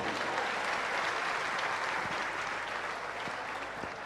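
A stand-up comedy crowd applauds steadily, dense continuous clapping from a full room holding an even level throughout, with a few faint voices underneath.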